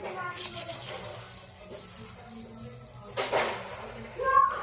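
Urad dal garelu batter fries in a pan on a low flame, making a soft, uneven sizzle with occasional brighter bursts of spitting oil over faint background noise.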